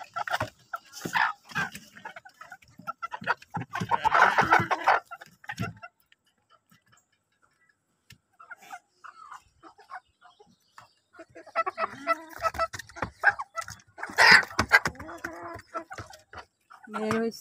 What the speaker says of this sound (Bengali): তো দেখুন মুরগিগুলি যাচ্ছে সব সন্ধ্যাবেলা